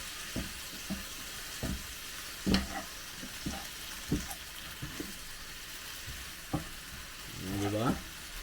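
Water spinach (kangkong) with shrimp paste cooks in a pan, sizzling steadily while a utensil scrapes and knocks at irregular intervals, close up, with a voice speaking briefly near the end.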